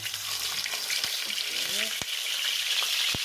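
Pork belly sizzles steadily in hot oil without flour coating, with a few sharp pops and crackles, close up and fairly quiet.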